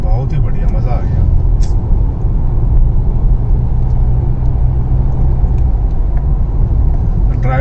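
Car driving on a road near the Ellora caves, with a loud continuous engine and road rumble filling the cabin while people talk throughout.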